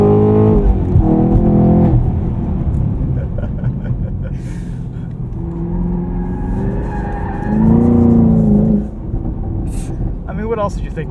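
A Camaro SS 1LE drifts on a track on old Blizzak winter tires, its tires squealing in long wavering bursts over a loud engine, with someone talking over the noise.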